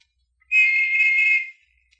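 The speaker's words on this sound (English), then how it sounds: "listened for another whistle" A single sustained whistle from a river landing, clear and fairly loud, holding a steady tone for about a second with no voices around it.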